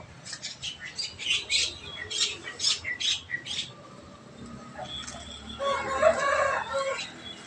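Fighting cocks kept in a backyard garden give a run of sharp, rhythmic squawks and clucks, followed by a longer, louder crowing call near the end, heard fairly close with little else around.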